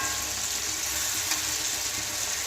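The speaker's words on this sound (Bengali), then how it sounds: "বন্ধুরা টমেটো আর পেঁয়াজ ভাজা হয়ে গেছে, আর একটু ভাজা হবে" Onion and tomato fry in a pan for a duck egg curry, giving a steady, soft hiss of sizzling oil that holds evenly with no pauses and no talk.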